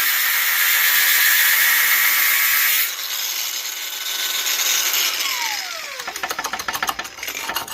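A power tool cuts off a piece of metal during a winch bumper installation on a Cub Crawler, a loud steady grinding rasp that shifts pitch and ends in rough, stuttering bursts, close by with no talking.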